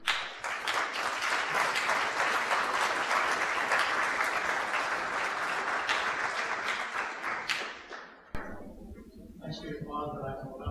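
Audience applause at a high school athletic hall of fame ceremony, sustained loud clapping filling a hall for about eight seconds before cutting off, after which a voice begins speaking.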